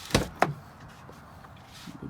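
A car door opens with two sharp latch clicks close together, then a faint settling rustle, heard up close in a quiet garage during a windshield washer pump repair.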